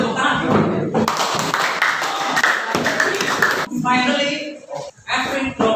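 A classroom breaks into applause, a short burst of many hands clapping close by, with talking audible over and after it.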